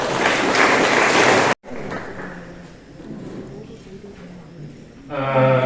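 A college orientation audience at a government arts and science college gives a burst of dense, loud clapping for the teachers. It cuts off abruptly, and a quieter murmur follows before speech returns.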